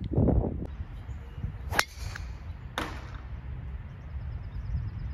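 Golf ball striking a tree on a course: after a thud of the tee shot, two sharp cracking impacts ring out, then quiet outdoor ambience.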